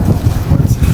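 Strong gusting wind buffets the microphone on an open golf course in extreme winds, a steady low roar with rising and falling surges throughout, no voices standing out.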